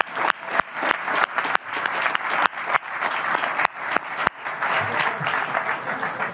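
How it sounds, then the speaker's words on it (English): A crowd at a soccer stadium groundbreaking ceremony claps steadily in sustained applause, dense and fairly loud, with a few sharper claps standing out before it thins slightly near the end. "But we do owe Jack a big round of applause."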